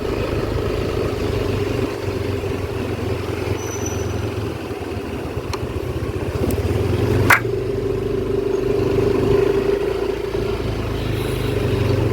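A 2025 Yamaha NMAX Neo scooter riding through a housing area gives a steady engine drone with a constant hum and road and wind rumble, rising slightly in the second half, plus a brief sharp click midway.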